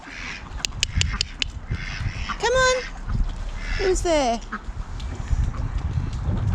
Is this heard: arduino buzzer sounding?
no